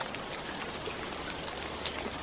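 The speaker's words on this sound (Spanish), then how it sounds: "y regresa al patrón y la textura del sonido de la lluvia." Steady rain patters densely on a surface, an even hiss of countless drops with no voices, continuous and close.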